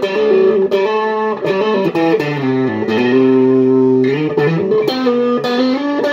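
Overdriven electric guitar through a Shark Moo kalei overdrive pedal after repair, playing sustained full, thick chords and notes with a clean, hiss-free tone, loud and continuous with no talking.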